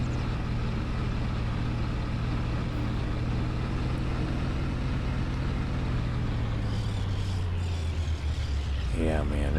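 A vehicle drives slowly around a farmyard with a newly attached trailer, its engine a steady low rumble throughout that drops in pitch near the end, while a person talks over it.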